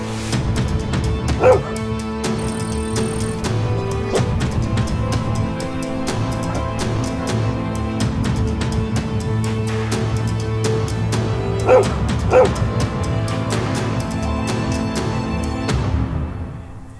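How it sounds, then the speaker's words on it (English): Feral dogs bark and yip in an Indian fox habitat, repeated calls rising and falling under steady instrumental music that runs throughout. "The lark attracts the attention of feral dogs."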